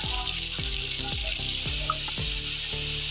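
Onions sizzle loudly as they fry in a pan of browned chicken and garlic paste, with a steady hiss throughout. Several soft knocks and stirring scrapes sound over the sizzle, and no one talks.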